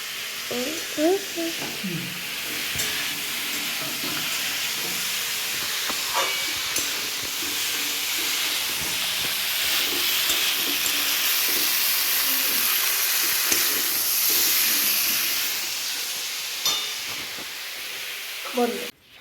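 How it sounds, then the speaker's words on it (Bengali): Spices frying in a pan for a home-cooked vegetable curry, a continuous close hiss and sizzle with occasional clinks and small knocks, a voice briefly heard near the start and end. "দেখো মশলা ভাজি"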